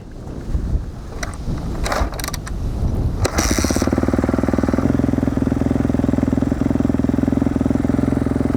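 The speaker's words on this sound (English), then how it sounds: "so you get to start the bike" A motorcycle starts up after some rumbling and handling noise, then settles into a loud, steady, rapidly pulsing idle close by.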